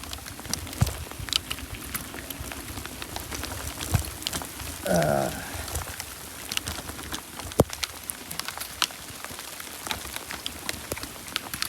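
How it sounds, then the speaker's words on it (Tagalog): Rain pattering steadily in the mountains of Mayoyao, Ifugao, with dense, irregular drops striking nearby surfaces, a brief muffled sound rising partway through. "Medyo malakas yung patak ng ulan."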